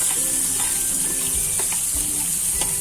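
Carrots and peas added to roasted dal in a pan for upma, a steady close sizzle and frying hiss with light stirring scrapes, no voices.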